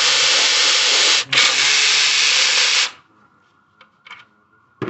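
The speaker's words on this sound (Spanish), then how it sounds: "Y quitando esos tornillos, entonces ya podemos quitar el intake." Power tool whirring steadily while bolts are backed out to pull the intake off a 2011 Nissan Frontier 4.0, close and loud for about three seconds with a brief pause, then a few small clicks and knocks.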